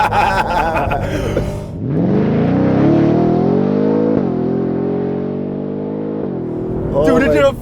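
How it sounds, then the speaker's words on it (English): A 2023 Ford Raptor R with a supercharged V8 launches into a four-wheel-drive burnout, its engine note rising into a loud sustained roar with a supercharger whine for several seconds, close by, with excited talk before and after. "Dude, it did a 4-wheel drive burnout."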